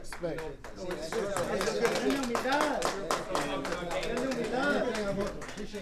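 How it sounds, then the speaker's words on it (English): Scattered clapping at a boxing post-fight press conference, several people applauding under loud overlapping chatter and talk close by. "We want to give a round of applause to the winner, David Benavidez,"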